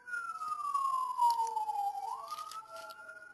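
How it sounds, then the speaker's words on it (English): Emergency siren wails in the background, a single tone sweeping slowly down and then back up, steady and moderately loud outside with no talking. "if you hear the sirens in the background"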